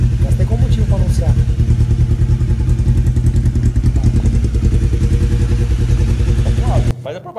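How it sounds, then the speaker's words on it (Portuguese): An old Honda CB500 motorcycle idles loud and close with a steady, throbbing, slightly clattery beat, and someone talks over it before the engine cuts off near the end. "CB500, quem vai querer comprar uma moto velha dessa?"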